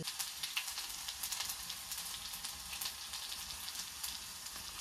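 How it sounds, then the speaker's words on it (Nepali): Apples fry in a pan with a steady, crackling sizzle that stays even and close throughout, with no voices. "अब यहाँ यो स्याउ भुट्न लाग्छु"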